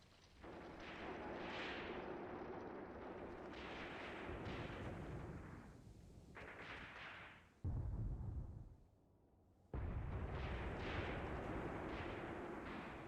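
Heavy artillery and gunfire boom in the Battle of Leningrad combat game Graviteam Tactics Mius Front, with long rumbling blasts and deep thuds layered over each other and a short quieter gap between them.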